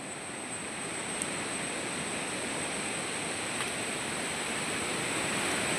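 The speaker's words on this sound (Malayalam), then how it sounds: "ഇതാണ് ഫ്രണ്ട്സ് ഇവിടുത്തെ ആറ്. ഇതാണ് ഇന്നലെ തൊട്ടേ മഴയാണ്. അപ്പോൾ അത് കാരണം വെള്ളം നിറഞ്ഞു." A river swollen after a day of steady rain rushes past in a continuous loud roar of flowing water, with no voices over it.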